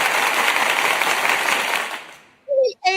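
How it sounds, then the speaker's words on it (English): A canned applause sound effect from an applause button during a sports talk show, with dense clapping for about two seconds that fades out, followed by brief bursts of speech. "we're ready for the applause"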